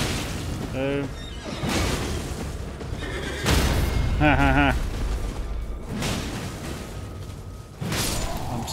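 A horse neighs in the Elden Ring video game, two short whinnies standing out among loud booming impacts, whooshes and game effects.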